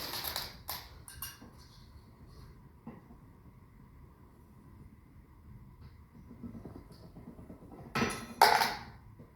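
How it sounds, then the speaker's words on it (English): A penny is cranked through a post-mounted penny press, making metallic clanks and grinding rolls. A few knocks come early, then a louder burst of clunks near the end, close and alone without talk. "now we'll try rolling one more through"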